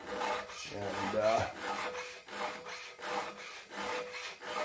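A file rasps rhythmically across a chainsaw bar to take off burrs and true the rails, with repeated scraping strokes at close range, each about half a second, and a brief word spoken near the start.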